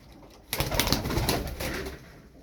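Milk-white, web-footed tumbler pigeons coo close by in a sudden burst of loud, rustling calls that rise after a quiet moment, then ease off toward the end.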